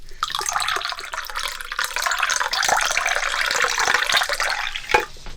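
Water poured from a height splashes continuously into a vessel, a bright, steady gushing with occasional drips and sharper splashes near the end, close and alone without talk.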